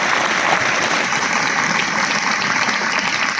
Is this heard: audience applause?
yes